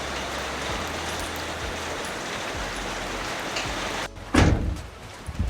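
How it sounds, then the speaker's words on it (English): Steady rain pattering down outdoors beside a garage, a broad even hiss for several seconds, then a sudden loud thump and rustle near the end. "the rain's stopping a little bit"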